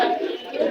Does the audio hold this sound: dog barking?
no